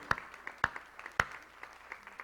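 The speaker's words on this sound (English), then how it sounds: "I applaud you." Audience members clap for a group of ladies at a church-style gathering, a few distinct, fairly loud claps spaced about half a second apart, then softer scattered ones trailing off.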